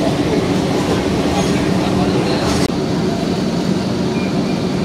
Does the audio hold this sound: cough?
no